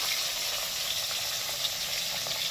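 Pieces of katla fish fry in a pan, a steady close sizzle and crackle with small pops scattered through, and no one speaks.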